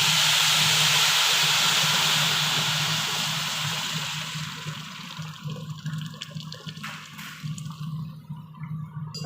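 Water poured into a hot pot of lentils, with turmeric and salt already added, gives a loud hissing steam rush that fades over several seconds into softer bubbling and sizzling.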